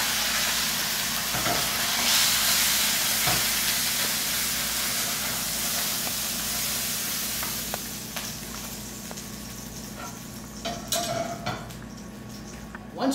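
A leg of lamb browning in hot oil in a pan, a loud, steady sizzle and hiss that thins toward the end, with a few clinks of the pan.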